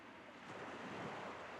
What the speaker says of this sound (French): le bruit des vagues augmenta